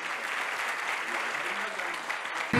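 Sustained audience applause at a ceremony honouring Fatma Şahin, a dense even clapping that holds steady, then a sudden louder burst right at the end.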